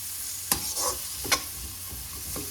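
Chunky onion pieces fry in a pan with a soft sizzle, broken by a few distinct scraping stirs of a spoon, close up and fairly quiet.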